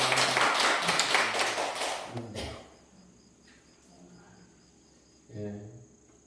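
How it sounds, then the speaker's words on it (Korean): A church congregation at a Sunday service claps together to celebrate a member's birthday, a brief dense burst that fades after about two seconds, followed by quiet room tone and a voice speaking. "우리 축하의 박수 한번 하겠습니다."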